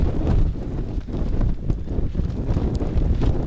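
Strong blizzard wind batters a tent on a frozen lake, roaring and buffeting against the microphone in loud, gusty surges that rise and fall, with nothing else audible over it.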